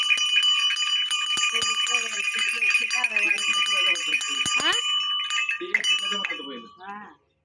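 An old metal cow neck bell rings repeatedly with a bright, sustained clang, close by, with bleating animal calls and some voices mixed in before it fades out.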